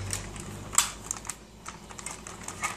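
Button pressed on a Toy Story laser toy, giving a few sharp plastic clicks at irregular intervals, close and fairly crisp.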